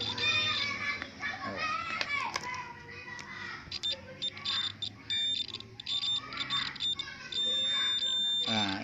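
A digital multimeter on continuity test gives steady high-pitched beeps, a few sustained tones switching on and off as the probes touch, heard close over a person talking and children in the background.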